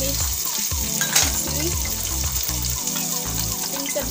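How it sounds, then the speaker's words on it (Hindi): Chopped onion, ginger paste and green chillies sautéing in a pan with kasuri methi, a loud close sizzle with stirring scrapes and a rhythmic low thudding underneath. "सबको हमने मिक्स कर लेना है, सॉटे कर लेना है।"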